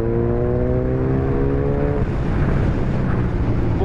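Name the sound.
Kawasaki 1000cc superbike engine, riding in sixth gear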